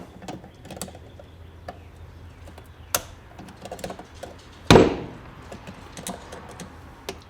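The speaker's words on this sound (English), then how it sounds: "and undo this snap ring." A snap ring on the input shaft of a D series transmission is pried loose, giving light metallic ticks and clicks, then one sharp, loud snapping clank near the middle as the ring releases, followed by scattered faint taps.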